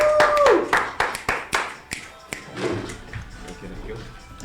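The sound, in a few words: audience applause welcoming Coach Ashraf Calvert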